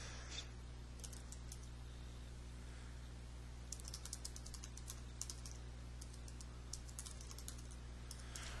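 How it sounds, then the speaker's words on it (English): Keyboard typing while entering text into an invoice field in accounting software, with scattered quiet key clicks in short bursts over a steady low hum, no talking. "I'm just going to type it in this box here"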